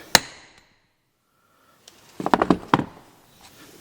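A sharp metallic strike rings out, then after a pause a quick cluster of loud hammer blows on a punch, close and percussive.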